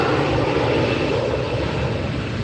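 Delta airliner passing at LAX airport, a steady broadband jet roar filling the short stretch at constant loudness, fairly close and with no voices.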